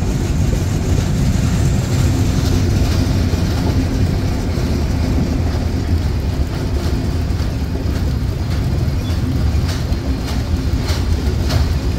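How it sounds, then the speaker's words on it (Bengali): Nilsagar Express train rolling into Natore railway station, a loud continuous rumble and rattle of wagons with faint clicks of wheels over rail joints, steady throughout. "সময় থেকে আধা ঘন্টা বিলম্বে ট্রেনটি প্রবেশ করছে নাটোর রেলওয়ে স্টেশনে।"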